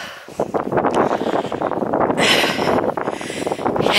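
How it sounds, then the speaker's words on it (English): Gusty wind rushes and buffets close to the microphone on a coastal hiking trail, rising and falling in strength throughout with no talk. "Yeah, it's breezy."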